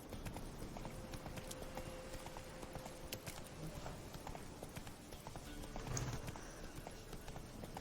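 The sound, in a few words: horse Roach galloping, hooves clip-clopping, from video game Witcher 3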